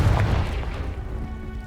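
A Confringo fire spell from the Hogwarts Legacy video game bursts into a deep, booming explosion. A loud low-frequency blast opens, then a rumbling tail gradually fades.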